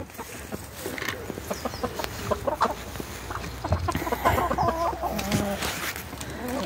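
Ameraucana hens peck at freshly picked grass in a poultry yard, clucking softly and steadily amid scattered rustles and scratching, with a busy, moderately distant flock murmur throughout.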